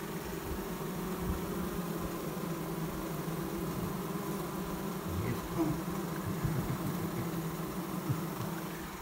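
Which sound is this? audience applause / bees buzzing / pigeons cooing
bees buzzing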